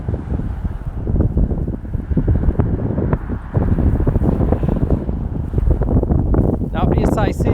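Strong, constant blizzard wind with gusts buffets the microphone during a February storm in Montreal, a loud, dense roar filling the whole clip without pause.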